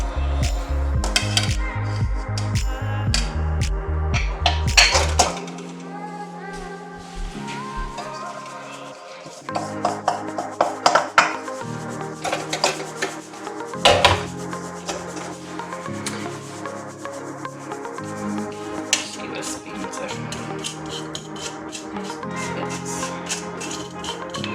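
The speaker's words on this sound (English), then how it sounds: "we're going to sieve that all into the bowl" Dry ingredients with plenty of ground ginger are sieved into a bowl, with a loud close rasping and rubbing that comes in bursts, plus some rattles and knocks.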